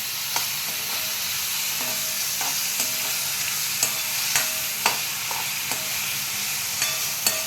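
Bananas fry in ghee in a pan, a steady soft sizzle punctuated by the clicks and scrapes of a spoon stirring them at irregular intervals, with no talking.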